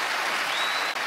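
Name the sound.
applause for Carly Fiorina at a debate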